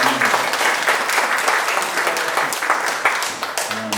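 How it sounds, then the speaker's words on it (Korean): An audience at a book launch event applauds warmly and steadily in dense, continuous clapping for a few seconds, with a faint voice briefly audible at the start and end. "잠깐만 일어나 주시겠습니까? 뜨거운 박수로"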